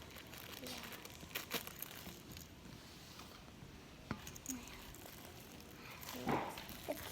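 Plastic wrapping on Smiggle stationery is handled and crinkled during an unboxing, giving quiet, intermittent rustles and crackles, with someone talking nearby.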